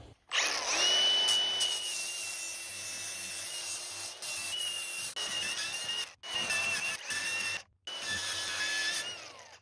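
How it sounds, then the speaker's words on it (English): A power drill whines at high speed, drilling out a plug weld on a dump trailer in several bursts with short pauses between, close and loud. "I'm going to drill out that plug hole real quick"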